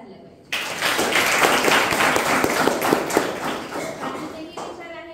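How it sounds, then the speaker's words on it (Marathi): Applause from a lecture audience starts suddenly and continues as dense, fairly loud clapping for several seconds, with a few sharper claps standing out before it thins slightly toward the end. "यासाठी टाळ्या झाल्या पाहिजे"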